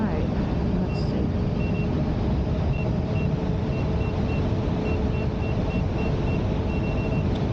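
Short warning beeps from a Sherman S electric unicycle on its original firmware repeat at a steady rhythm during a ride, clear but moderate above constant wind and road rumble.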